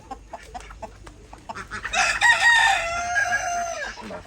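A chicken suffering from head-twisting disease crows loudly and close by, a long strained cock-a-doodle-doo that follows several short clucks and scratchy noises, with no talk over it.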